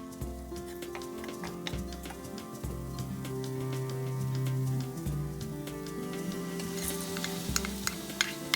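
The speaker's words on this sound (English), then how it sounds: "After frying the flour in the tomato paste, add the diced carrots and the washed lentils." Flour and tomato paste frying in a pot with diced carrots and washed lentils for a Turkish vegan lentil soup, a steady close sizzle with light ticking and stirring clicks throughout.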